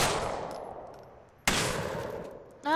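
Two sharp gunshots in GTA IV, the first opening the clip and the second about halfway through, each with a long decaying reverberant tail, loud and close with no talk.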